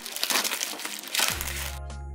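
A plastic-wrapped parcel of toy rockets is torn open with loud crinkling and crackling of the wrapping, ending in a steady low hum.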